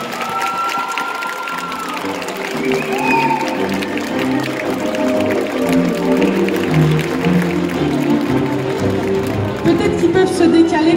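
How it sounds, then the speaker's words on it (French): Audience clapping at the announcement of cosplay contest results at Yggdrasil 2022, a dense steady patter of many hands filling the room while voices chatter and someone talks over it. "On les applaudit bien fort."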